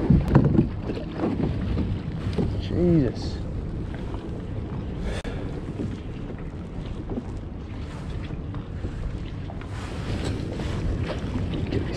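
Choppy waves slap and rock a small fishing boat, with steady wind buffeting the microphone and water sloshing against the hull; a man briefly exclaims partway through.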